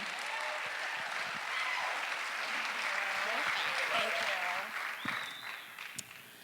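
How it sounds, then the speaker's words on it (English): An audience claps steadily for several seconds, a dense wash of applause that thins out toward the end, with a few whoops and a voice over it. "I'd like to strongly encourage you to give a big round of applause for Lia Moran"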